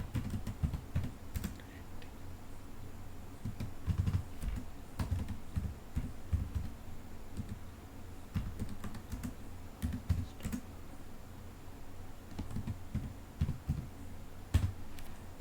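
Commands are typed on a computer keyboard in irregular bursts of close, crisp key clicks with heavier thumps, continuing for several seconds in a quiet room.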